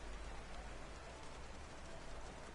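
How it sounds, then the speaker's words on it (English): Rain in the video game F1 2020, a steady hiss of rainfall that holds even and continuous from start to finish with no voices. "you can hear the rain"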